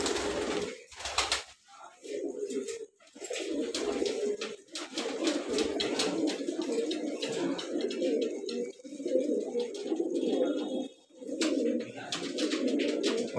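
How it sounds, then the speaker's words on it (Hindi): Large black pigeons kept at home coo steadily and close by, soft repeated throaty calls overlapping through the whole stretch with only brief pauses, with no talk. "ये काला कबूतर है मैन,"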